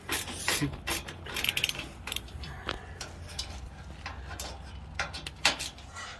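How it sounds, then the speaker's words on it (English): A hand ratchet tightens screws on the legs of a Hampton Bay Harbor patio conversation set, giving a steady run of close, rapid metallic clicks with a few louder snaps, and no talking. "Had to tighten each of these screws at least 3 or 4 times as it went around"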